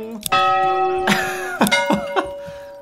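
Struck church bell in Manor Lords, a wooden village church: several clear metallic strikes, each ringing with bright overtones, spaced irregularly and fading, with faint voice-like noises between them.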